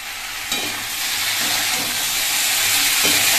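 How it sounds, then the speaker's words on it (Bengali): Cauliflower and bori sautéing in a pan, a loud continuous hiss of frying with a few soft stirring scrapes, close up and without speech. "বড়ি ফুলকপি সবকিছু দিয়ে দিলাম, দিয়ে দেবো আরো কিছুক্ষণ ভালো করে কষাবো"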